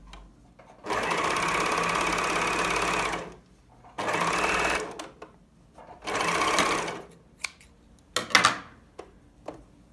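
Sewing machine stitching a side-slit tunic, running in three loud continuous bursts of several seconds each, separated by pauses, followed by scattered clicks and handling knocks as the fabric is adjusted.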